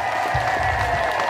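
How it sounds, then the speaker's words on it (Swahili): A short burst of audience clapping at a public meeting in Kabugoso for the ward councillor, dense and crowd-wide, rising quickly and holding steady over the brief moment. "Mpigeni makofi mengi sana diwani wenu huyu wa kata."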